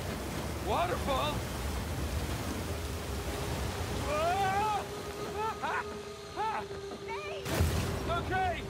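Rushing water from a waterfall in Uncharted 4 roars as a steady, dense wash under a vehicle engine drone, while voices shout and chirp over it and a loud crash lands near the end.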